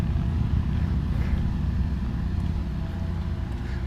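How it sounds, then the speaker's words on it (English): A parked Tesla Model S runs its cooling fan, a steady broadband whoosh with a low rumbling hum that holds continuous and fairly loud throughout, with no one speaking. "Ooh, I can hear my car's fan from here."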